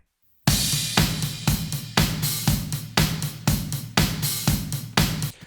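Raw, unprocessed drum kit recorded through a stereo room pair, mono overhead, kick and snare mics, playing a steady groove of loud, evenly spaced hits with ringing room decay, with no one talking.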